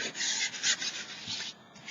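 Sandpaper rubbing back and forth across the cover of a children's book being altered for mixed media, a close, steady rasping scrape in repeated strokes with brief pauses, no talking.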